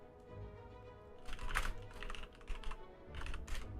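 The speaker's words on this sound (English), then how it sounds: "And almost done typing." Close, quiet typing on a computer keyboard during a Slay the Spire game session, several short bursts of clustered key clicks with brief pauses between them and no talk.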